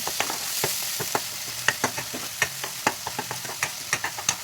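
Red chili powder, turmeric, coriander and cumin powders sizzle in hot oil with onion paste for bottle gourd kofta curry, a steady close frying hiss broken by regular stirring clicks of a spoon against the pan, with no talking.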